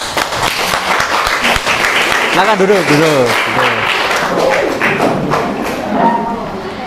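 Junior high students clap in a classroom for a group after its presentation, a loud dense burst of applause with a teacher's voice speaking over it.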